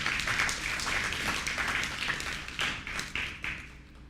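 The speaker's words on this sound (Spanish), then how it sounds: "Alguien le da un aplauso al Señor." A church congregation applauds during a Spanish-language sermon on union with Christ, a steady wash of many hands clapping throughout, fairly close and sustained with a few louder bursts near the end.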